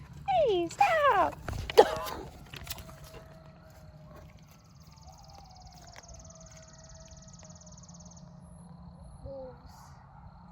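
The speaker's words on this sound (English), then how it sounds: "The barks." Several dogs let out a short burst of yelps and rising, howl-like cries in the first two seconds, loud and fairly close, before fading to a quiet background with a faint steady tone.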